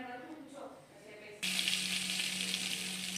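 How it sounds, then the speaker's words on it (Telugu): Butter sizzling in a kadai on the stove, a steady broadband hiss that starts abruptly partway through and holds at moderate loudness after a quieter, murmuring opening. "కడాయి పెట్టేసి బటర్ వేసుకున్నానండి."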